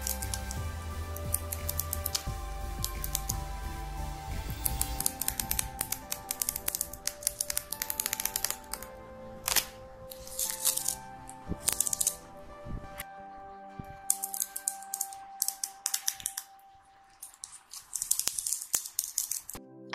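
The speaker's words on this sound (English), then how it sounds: "hear the sound when I peel off the tape vertically" Masking tape peeled off a painted, textured laptop lid, giving a run of crackly, sticky tearing bursts that come in uneven spurts, loud and close, with brief pauses and tiny ticking releases between pulls.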